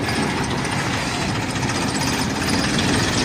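A DAF CF truck engine runs steadily and loudly at close range while the truck turns to park, with a constant low rumble and a broadband idling drone throughout.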